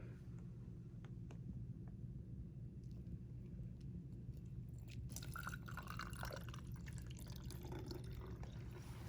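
Water drips from a soil sample during a soil water-retention test, with sparse isolated drips at first and then a busier cluster of splashes and trickling, all faint over a steady low hum.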